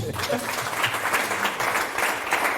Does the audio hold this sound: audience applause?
yes